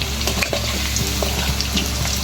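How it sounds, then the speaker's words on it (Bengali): Tomato, ginger and garlic spice paste frying in a pan for a Bengali fish and cauliflower curry gives a steady, close, crackling sizzle with faint stirring scrapes and no talking. "তারপরে মশলা দিয়ে এটাকে কষিয়ে নেব"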